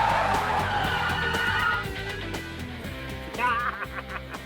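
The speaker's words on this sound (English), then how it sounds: "First up is the regular braking distance on the automatic." An automatic car braking hard from 50 mph on asphalt, its tires skidding and squealing loudly at first, then fading into rougher scrubbing and clatter.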